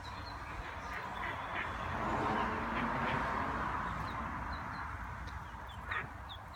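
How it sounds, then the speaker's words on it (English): Several ducks quack intermittently beside a small river over a steady outdoor rush of noise, the calls fairly close and scattered through the clip. "A couple ducks decided to visit us."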